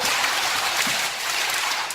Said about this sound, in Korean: 박수 일곱 번 시작